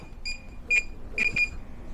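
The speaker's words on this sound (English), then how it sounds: "Once that beeping stops, that means the old controller that you have at home is now paired" A few short, high-pitched electronic beeps from a DJI Mavic Air 2 remote controller during pairing, spaced irregularly, with a quick double beep near the end, heard clearly over a quiet background.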